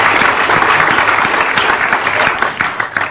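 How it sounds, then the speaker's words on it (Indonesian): Studio audience on a Global TV talk show applauding its guests, dense continuous clapping from a crowd, loud and close, with no speech over it. "Kita boleh tepuk tangan untuk Bu Endang dan Habibie"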